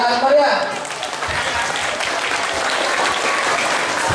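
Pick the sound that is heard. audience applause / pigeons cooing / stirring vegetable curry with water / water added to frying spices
audience applause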